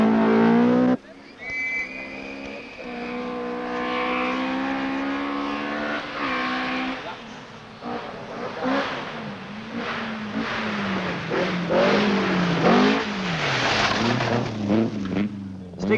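A 1975 Datsun rally car on an RAC Rally stage, its engine revving and shifting through rising and falling gear notes, loud and close, with a commentator talking over it.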